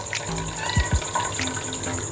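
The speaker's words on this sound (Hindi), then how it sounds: "आप इस कपड़े में वैसे इसका पानी निकाल लें।" Water running and splashing as washed minced meat is squeezed in a cloth by hand over a sink, a steady close tap-like flow with brief wet gushes.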